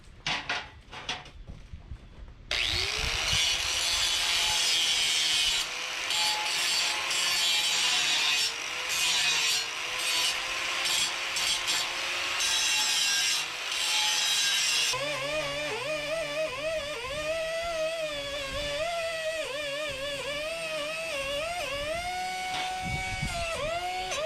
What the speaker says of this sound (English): then I'll just wire brush it down